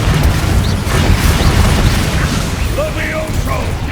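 A Confringo fire spell exploding in Hogwarts Legacy, a loud rumbling boom with sustained crackling blast noise and faint voice-like cries over the top.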